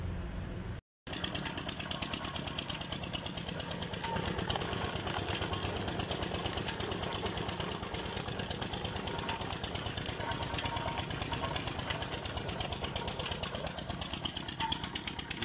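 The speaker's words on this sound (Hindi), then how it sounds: "ये गुड़ बेलने का इंजन चल रहा है" An engine belt-drives a sugarcane crusher at a farm jaggery works, a steady, rapid, thumping chug that continues nearly unbroken after a brief cut at the start, with no talk over it.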